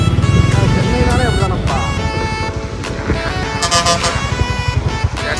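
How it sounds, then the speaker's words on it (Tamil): Busy road traffic passes close by with engines rumbling and car horns tooting in short bursts, while people talk over the noise. "டிராஃபிக் தொல்லை தாங்க முடியல மாடசாமி"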